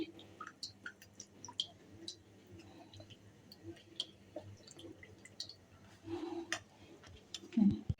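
A spoon mixes refined oil with a little water in a small bowl for chitoi pitha, producing light, quick clicks and taps, then a louder swirling, sloshing stretch near the end.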